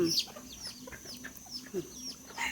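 Bantam chickens and chicks from Chanthaburi cluck and peep close by in a farmyard, a scatter of short soft calls and higher chirps coming in uneven bursts over a quiet background.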